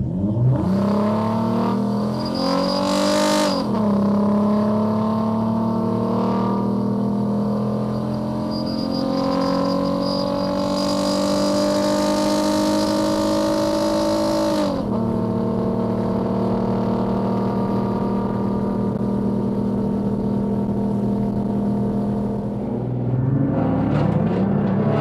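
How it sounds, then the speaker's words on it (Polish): A Suzuki Grand Vitara stock-class car pulls hard from about 30 km/h at full throttle, the engine note rising steadily through long revving pulls with a brief shift, loud and close from inside the cabin. "i teraz jedziemy ile? 30 na godzinę i dajemy buta w podłogę."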